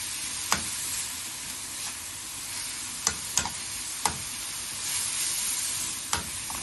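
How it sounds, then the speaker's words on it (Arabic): Taro pieces fry in hot oil with a steady bright sizzle and hiss, broken by a few sharp pops and utensil clicks scattered through the clip. "طبعا هي كده بتتحمر"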